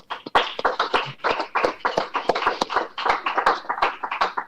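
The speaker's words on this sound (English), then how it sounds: "I think we should all give some applause to these people" Scattered hand clapping from a small group honoring award winners at a hybrid school board of education meeting, uneven and close, with a few sharper claps standing out as it continues steadily throughout.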